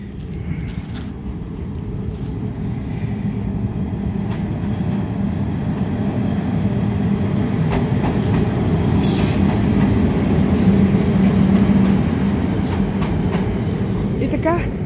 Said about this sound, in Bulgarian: ето го локомотива сега маневрира